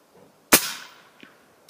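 A single sharp crack from a Sam Yang Recluse airgun fired at a target 100 yards away. The shot is near and loud and decays into a short tail. A faint knock follows about a second later.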